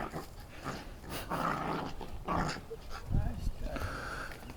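A dog barks excitedly off in the distance in repeated bursts, mixed with growly noises, while people talk nearby.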